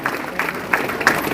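A crowd claps at a felicitation ceremony held at a government primary and high school in Kiragandur, honouring an alumnus who donated a computer: a short burst of moderate applause with individual claps standing out.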